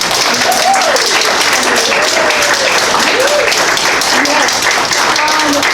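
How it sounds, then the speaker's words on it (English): An audience claps together at a library after a poetry reading by Chloe Hanson, a steady dense wash of applause with voices audible among it. "Let's clap together."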